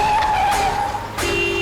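A car driven erratically skids, its tires squealing loudly in a high wavering tone, then a second sharp squeal follows after a brief dip, close and without voices.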